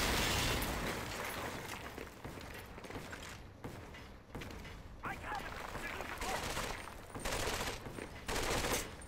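Gunfire in Medal of Honor: Vanguard rattles in dense bursts mixed with booming explosions, loud and continuous with short pauses, while a voice talks underneath.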